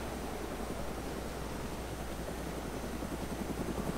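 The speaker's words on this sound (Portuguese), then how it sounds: "Nossa, tem mais um helicóptero ali," A helicopter flying in a video game gives a steady, dense rotor and engine roar that fills the whole clip at a constant loudness, with no voices.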